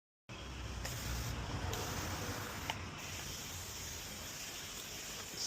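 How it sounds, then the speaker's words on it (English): A spray bottle mists water across a car's side window during tint film installation, a steady soft hiss running for several seconds with a few brief breaks, close and fairly quiet. "Spray down."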